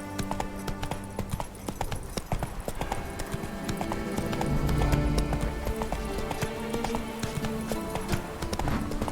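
The horse Roach galloping in The Witcher 3: Blood and Wine, with a continuous fast clip-clop of hooves over a background of ambient game music and effects. There is brief speech.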